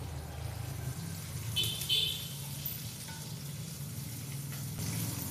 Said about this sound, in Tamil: எல்லாத்தையும் போட்டு வதக்குங்க, எல்லாம் வதங்கிடும்.